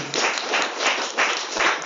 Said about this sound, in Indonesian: Tepuk tangan heula atuh.